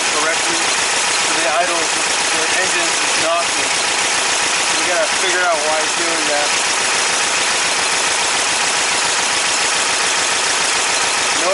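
Air-cooled VW engine fitted with dual EMPI 40HPMX carburetors, out of sync, idles with a steady rough knock and rattle, loud and close, while someone talks over it.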